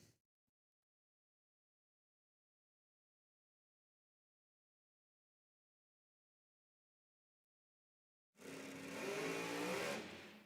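A Ford Mustang drag car with a Hemi 514 engine launches at Sydney Dragway: long near-silence, then a sudden loud, close engine roar bursts in for the final two seconds.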